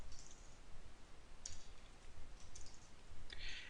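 Light clicking keystrokes on a computer keyboard while writing C code, a few sparse taps and short bursts, quiet and close, with no talk.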